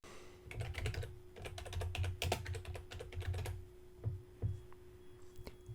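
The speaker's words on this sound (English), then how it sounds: "So I'm going to type in Facebook widget." Quick, steady keystrokes on a computer keyboard clatter for several seconds, close and clear, then thin out to a few scattered taps, with no talking.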